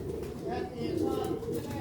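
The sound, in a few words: Sialkoti pigeon cooing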